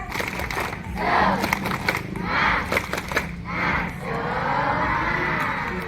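A crowd of schoolchildren in an Indonesian classroom shout in rhythmic bursts, clapping and chanting a spirit clap together in a loud, repeating pattern, ending in a long cheer.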